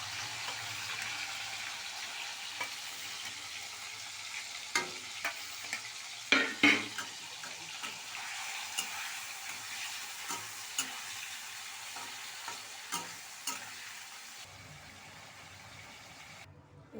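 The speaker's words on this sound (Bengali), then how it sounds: "কড়াইতে তেল দিয়ে দিয়েছি চিংড়ি মাছটা ভাজবো বলে" Prawns fry in hot oil in a wok, a soft steady sizzle with scattered sharp clinks and scrapes of a utensil against the metal, quieting toward the end.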